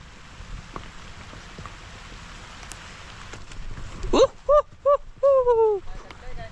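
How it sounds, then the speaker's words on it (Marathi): Rain hisses steadily in the background with faint patters during traditional fishing in a Konkan village, then a voice calls out in several short bursts near the end. "पण अरे पाऊस आला"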